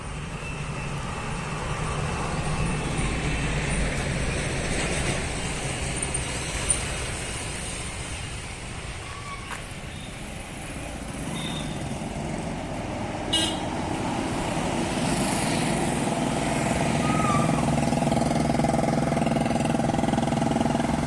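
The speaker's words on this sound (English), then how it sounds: "Here is a highway." Steady roadside highway traffic with a continuous broad rumble and hiss of passing vehicles, swelling slightly toward the end, with a brief horn-like toot and faint overhead engine drone mixed in.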